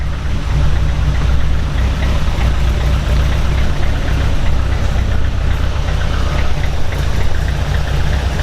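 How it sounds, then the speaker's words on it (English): A Toyota Corolla sits idling while it warms up inside a garage, a steady low engine drone running evenly from start to finish with no revving. "Got the Corolla turned on. Got it warming up so I can pull it out of the garage so I can get the GS out."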